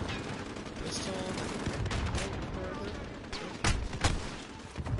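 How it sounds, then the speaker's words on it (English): Gunfire crackles through a Modern Warfare match as steady bursts of shots over a dense background, with sharper, louder reports near the end. "Where are you firing at me from?"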